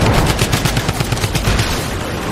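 Rapid bursts of automatic gunfire from a drum gun in the video game Fortnite, a dense, loud, steady rattle of shots filling the whole stretch with no talking.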